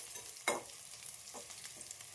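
Onions fry in a pan with a faint, steady sizzle, broken by a few sharp scraping stirs, close but quiet and without any voices.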